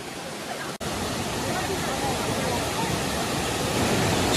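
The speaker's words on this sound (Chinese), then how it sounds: "这里瀑布的声音好大呀，" A big waterfall at Jiuzhaigou roars in a loud, unbroken broadband rush that fills the whole clip, steady and close, with a brief dropout near the start.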